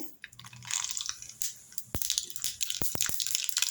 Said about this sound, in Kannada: ಇವಾಗ ಎಣ್ಣೆ ಬಿಸಿಯಾಗಿದ್ದಲ್ಲ ಇವಾಗ ಸಾಸಿವೆ